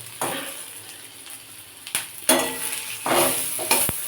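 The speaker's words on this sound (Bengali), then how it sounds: "রসুন পেঁয়াজ ভাজা হচ্ছে" Garlic and onion fry in a pan beside boiled potatoes, bursts of crackling sizzle rising and falling as a spatula stirs and scrapes, near and moderately loud.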